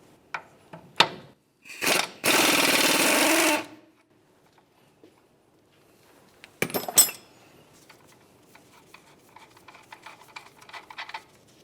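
A 19mm wrench and socket work a nut off a control arm bolt on a Nissan Titan, giving quiet metallic clicks and ratcheting bursts, a long whirring spell, then scattered light taps and clinks close up.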